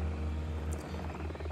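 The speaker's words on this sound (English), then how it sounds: "I hear a helicopter" A helicopter in the video game Evil Genius, heard as a low, steady rotor drone with a faint buzzing whine on top, continuous and moderately close for a short stretch.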